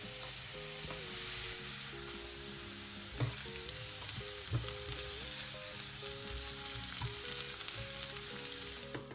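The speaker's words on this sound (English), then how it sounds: "Let the veggies cook for about 10 minutes while you keep stirring so they don't burn." Chopped vegetables fry in a pan for a beef ragù, a steady close sizzle with occasional stirring scrapes and clicks of the utensil, no voices.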